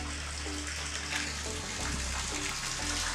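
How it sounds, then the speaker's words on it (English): Water gushes steadily as a solar pump moves it from a lake up to a hilltop reservoir, a continuous rushing flow with a low throbbing pulse underneath. "Water is pumped from the lake to the water reservoir at the top of a hill."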